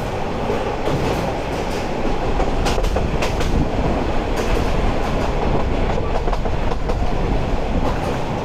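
A Chattogram University shuttle train rolls through wooded hills, with a steady loud rumble and rhythmic clickety-clack of wheels on rails heard from inside the moving train.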